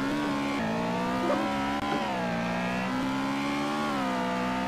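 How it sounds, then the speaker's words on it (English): Simulated Honda S2000 engine in a Roblox drag race, a steady loud revving drone with harmonic tones that shift slightly in pitch as it accelerates, continuous and close with no talking. "we will drag race in this S2000"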